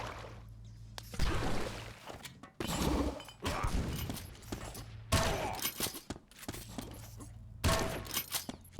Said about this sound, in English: As Reki pushes in with that shotgun.